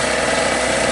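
A red Harbor Freight generator engine runs steadily up close, a loud continuous drone with even mechanical buzz and no pauses or voices.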